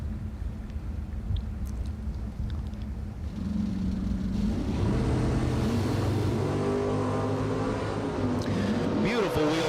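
Drag cars launching at a bracket racing event, one pulling a wheel stand: low idle rumble gives way to a loud, rising engine roar and revving as the cars leave, with an announcer talking over it.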